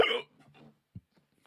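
A man's hiccups indoors: a sharp, loud vocal burst at the start, then one short, softer hiccup after a brief pause, with faint breathy sounds around them.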